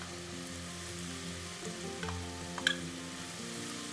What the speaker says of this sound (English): once it's nice and sizzling, what you'd want to do is grab about half of the mince